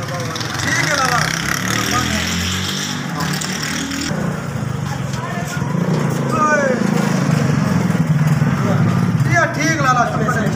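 A motorcycle arriving outdoors, its engine putting and revving close by, with several people talking over the engine noise.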